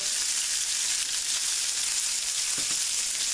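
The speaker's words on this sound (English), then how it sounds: "with some olive oil, and we're going to throw about 5 ounces of ribeye that I diced up." About five ounces of diced ribeye fries in olive oil, giving a dense, continuous loud hiss of sizzling with a couple of soft stirring knocks near the end.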